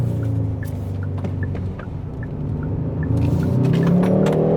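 A 2025 Hyundai Sonata is pushed hard through a corner, its engine droning loud and steady from inside the cabin with tonal whine rising as revs climb toward the end, road rumble underneath.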